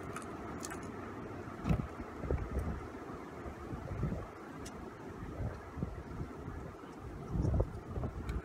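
Wind gusting outdoors and buffeting the microphone, a steady low rumble with a few stronger bumps, heard alone with no voices.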